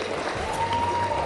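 Studio audience applause on a televised celebrity dance show, a steady wash of clapping under a faint held tone and light background talk.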